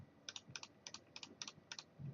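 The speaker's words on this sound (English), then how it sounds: "Just clicking on whatever you can click on." Mouse clicks in the idle game Adventure Capitalist, a steady run of light, crisp clicks in quick pairs, close and fairly quiet with no talking.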